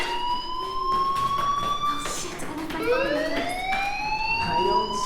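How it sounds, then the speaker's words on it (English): A fire alarm blares inside the video game Life is Strange, a loud, steady electronic siren with repeating rising wails that continue throughout, with faint game sounds beneath. "do you hear that fire alarm?"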